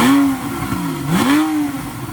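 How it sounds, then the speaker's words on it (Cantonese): A 2015 Porsche 911 GTS with its exhaust valves open revs hard nearby, engine pitch climbing, dropping, then rising again in two loud, throaty sweeps. "咁而家撻著部車俾大家聽下啦"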